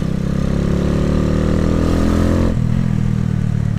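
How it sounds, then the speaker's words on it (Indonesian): A 2010 Minerva R150 VX motorcycle engine holds a steady, loud rev with a dense harmonic drone that drops slightly in pitch partway through, recorded close up with no talking. "RPM ini motor kalau RPM 3000 sampai 6000 doang sih ngangkat"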